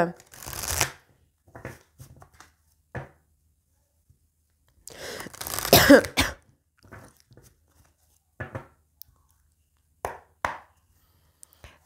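Tarot cards shuffled and cut in short bursts of riffling and slapping, close and intermittent, separated by near silence, with a voice speaking in places.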